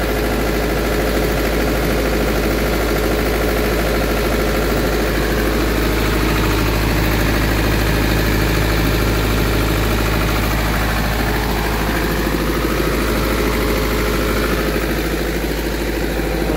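A 40 kVA diesel generator with a Mitsubishi engine idles with a loud, steady, deep drone and a constant throbbing rumble, close by and unbroken, with no voices.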